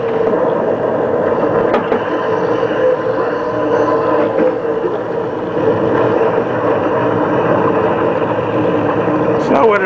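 A steady engine drone from a Dirty Drivin arcade driving game cabinet with force-feedback steering runs continuously at even loudness, with someone talking over it throughout.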